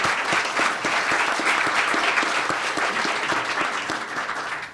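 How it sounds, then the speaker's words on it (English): Steady audience applause for forum panelists discussing campus sexual assault claims and due process, a dense wash of many hands clapping at a moderate distance with no talk, fading slightly toward the end. "Wow, a quick round of applause for our panelists."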